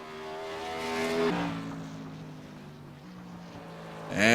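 A tour modified race car on a qualifying lap at USA International Speedway gives a high, rising engine whine that shifts down sharply as it lifts, then builds again and swells loudly at the close.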